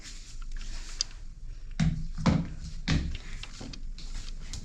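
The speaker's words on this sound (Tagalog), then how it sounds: "Bubuksan ko po yung pinto." A door opens indoors with a few knocks and a latch or handle clatter, thumps spaced over a few seconds against a quiet room, with no voices.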